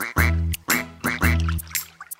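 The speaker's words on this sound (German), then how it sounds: "Enten sind tolle Vögel." Cartoon ducks quack in a German children's song, four loud, close quacks in an even rhythm, heard alone.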